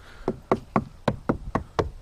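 A rotted boat transom is knocked seven times at a quick, steady pace, each sharp, close tap giving a slightly hollow, dull wooden thud.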